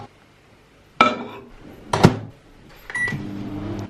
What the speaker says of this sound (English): So that is my porridge ready to pop into the microwave.